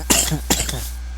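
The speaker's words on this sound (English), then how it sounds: "Cough, cough, cough." Two or three harsh, throaty coughs from a man recording a podcast, burst out close to the mic over a steady low hum, with a short gap between the first cough and the rest.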